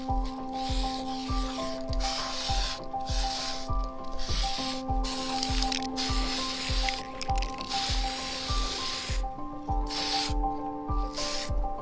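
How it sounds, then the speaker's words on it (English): Aerosol spray paint applied to an RC monster truck body in blue, with repeated bursts of broadband hiss stopping and starting over steady background music with a regular beat. "whenever you spray, you wanna go from left to right or right to left"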